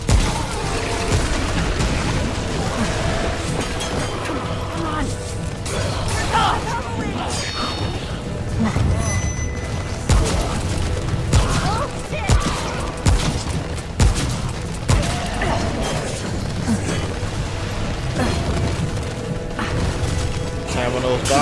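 Sidearm gunfire in Remnant crackles in quick irregular bursts amid clanking metallic impacts and booms, mixed with game combat noise, while someone talks over much of the action.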